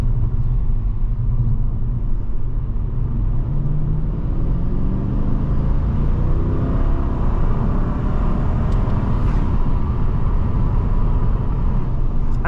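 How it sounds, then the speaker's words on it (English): A Mercedes CLK 55 AMG coupé's V8 engine rumbles at a steady, low, continuous level from inside the car while driving, with no one speaking. "V8 rumble."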